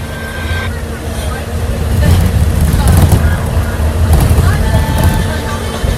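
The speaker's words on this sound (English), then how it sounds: "Sorry, it's very bumpy and noisy. Like I said, guys, I am on the bus." A bumpy, noisy bus ride makes a steady, loud rumble and road roar that swells and eases throughout, with faint voices mixed in.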